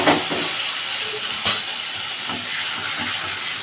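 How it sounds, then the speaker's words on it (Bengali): Hot water goes into a pan of potatoes and fried red chili spice paste for dhokar dalna, producing a steady broad hiss that stays level throughout, with one brief sharp tap partway through and no speech. "সামান্য একটু গরম জল দিচ্ছি।"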